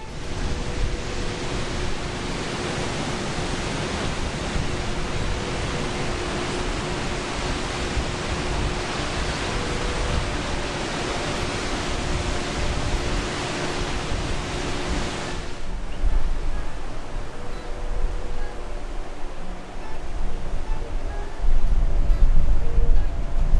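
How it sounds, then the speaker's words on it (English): Steady, loud rush of wind through casuarina trees and breaking surf near Yeppoon and Emu Park, Queensland, fills the whole stretch, a constant broadband roar that shifts slightly in tone partway through. "You can barely hear it over the wind through the casuarina trees and the surf break."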